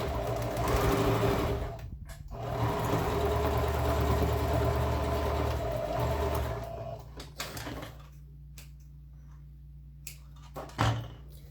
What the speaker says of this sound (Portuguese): Primeiro eu vou costurar essa parte, pra ficar mais fácil.